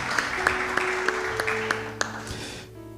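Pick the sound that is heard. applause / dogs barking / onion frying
applause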